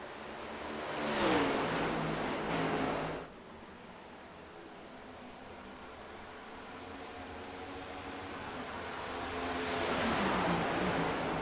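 Stock cars racing in a sim racing cup series, engines droning steadily with two louder passes roaring by at the start and end, no talk over them.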